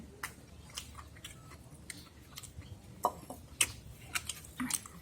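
Crunchy Korean radish salad, mu saengchae, is chewed close up in a series of irregular, crisp crunches and bites, with louder crunches toward the end and a low background hum.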